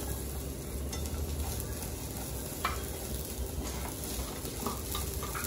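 Ingredients sautéing with a steady sizzle in a pan, stirred now and then with soft scraping clicks, continuous and close for several seconds while cooking a crepe filling, no talking.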